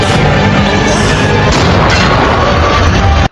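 Tank cannon fire from the war film Fury, a loud, dense battle roar of heavy booming blasts with crashing impacts that fills the whole span before cutting off abruptly.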